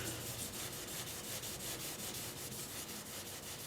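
Rhythmic back-and-forth rasping of sandpaper on California olive wood for turning, fast regular strokes, close and continuous.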